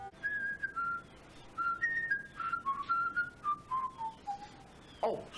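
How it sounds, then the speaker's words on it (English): The Harbour Master, a character from the children's show Theodore Tugboat, whistles a wandering tune of short sustained notes that step up and down. The whistling is clear and close, with no talk over it, and ends in a brief burst of noise. "I was just practicing my whistling here"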